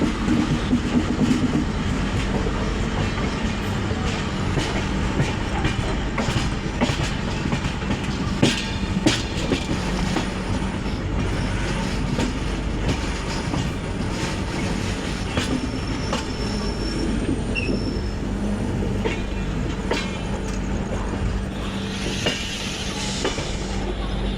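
Gitanjali Express train running steadily on rails just after leaving Bilaspur station, with a continuous loud rumble, rhythmic clickety-clack of wheels over rail joints and occasional wheel squeal, heard from on board with no talking.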